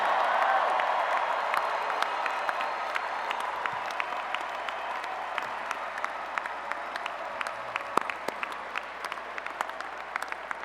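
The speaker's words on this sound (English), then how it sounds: "one final round of applause for all of our graduates" A large commencement audience applauds the graduates of Tulane's Class of 2025, a dense, sustained wash of clapping with scattered sharper claps throughout, heard at a moderate distance.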